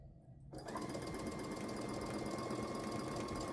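A sewing machine stitching quilt blocks starts after a short quiet moment, then runs in a fast, even, continuous mechanical whir close up, with no talking.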